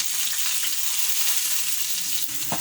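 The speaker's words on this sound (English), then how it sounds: "In a pan, add 2 tablespoons of vegetable oil, then add your chopped onion" Chopped onion sizzles in hot vegetable oil in a pan, a loud, even, steady frying hiss with a faint stir or tap near the end and no speech.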